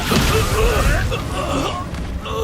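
Confringo explosive spell fired during Hogwarts Legacy combat, a dense burst of booming blasts and crackling magical effects with game voices mixed in, loud and continuous throughout.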